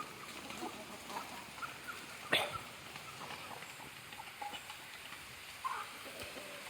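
Light outdoor drizzle makes a faint, steady patter. A free-range country chicken clucks quietly now and then in the background, with one sharper sound partway through.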